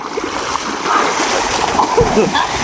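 Water splashes and churns as people bathe in clear water outdoors, a continuous close, loud wash of splashing with brief voices mixed in.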